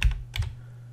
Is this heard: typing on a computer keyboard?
yes